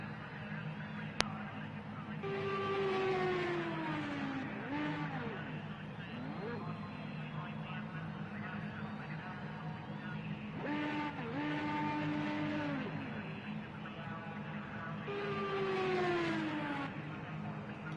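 A race car in the Project Cars 2 racing game rolls down the pit lane, its engine droning steadily with recurring rising-and-falling whines of gear changes. A commentator talks over the engine throughout.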